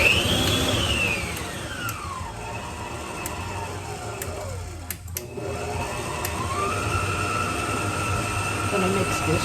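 Electric stand mixer beating peanut butter cookie dough at home, a steady loud motor whine with rising and falling pitch sweeps as the speed changes, running throughout with a voice speaking over it.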